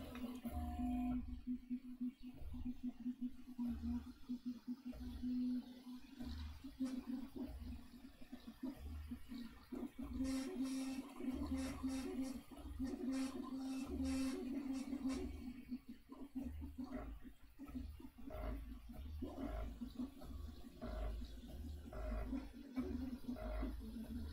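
A Prusa i3 MK3 3D printer whirs and buzzes while running its calibration, with a steady motor hum and intermittent stepping chirps, fairly quiet and close.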